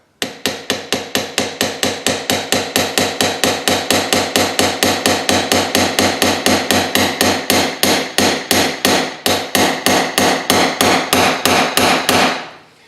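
Steady, rapid hammer blows ring out nearly continuously, dozens of sharp metallic taps on a Hyundai Genesis 2.0T R-Spec part being driven into place, even rhythm, close and loud, then they stop abruptly.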